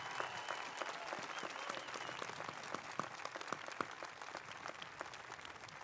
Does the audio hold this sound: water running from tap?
no